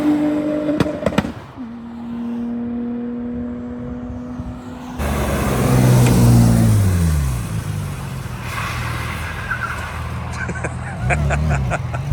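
An Audi RS4 B5 accelerates flat out on the German autobahn, its loud engine rising in pitch through the gears with abrupt shifts and surges of roaring wind and road noise.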